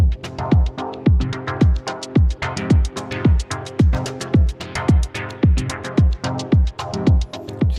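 Rhythmic dub chord stabs programmed on a Polyend Tracker repeat in a steady, even pulse, each bright chord hit falling over a deep low thump, and the loop keeps going loud and clear with no voices.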